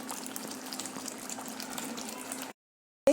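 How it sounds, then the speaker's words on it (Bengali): A little spice-paste water pours into a hot pan holding paneer, a steady close splash and gush lasting a couple of seconds before stopping abruptly into silence. "সামান্য বাটনার জল অ্যাড করে দিচ্ছি।"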